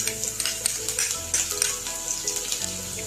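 Garlic, ginger and chili paste frying in a pan with cumin seeds, cinnamon, cloves, red chili and curry leaves, giving a continuous close sizzle with light crackles and soft stirring clicks.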